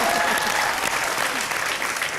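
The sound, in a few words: applause from TV comedy show audience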